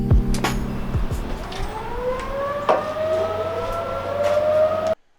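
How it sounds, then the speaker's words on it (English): A distant town tornado siren wails, its pitch rising and holding in a long sustained tone, over steady background noise and a few faint clinks before cutting off. "That sound you just heard was the tornado siren that goes off in our town"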